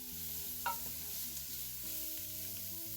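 Onions and meat frying in a pot for old-fashioned beef stew, a steady close sizzle with a faint scrape of stirring and a low background hum throughout.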